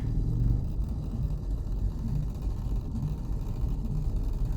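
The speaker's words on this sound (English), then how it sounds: "The engine is revving" A Saab 93 engine on a test drive after being saved from the scrapyard, a steady low rumbling drone with slight surges, heard from inside the car without any talking.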